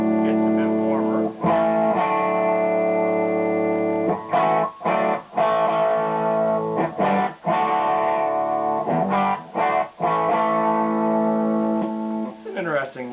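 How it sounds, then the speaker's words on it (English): An electric guitar played through a BJFe Dyna Red distortion pedal set for a low gain tone rings out in sustained, slightly gritty chords, with short gaps between strummed phrases. "It's an interesting low gain sound."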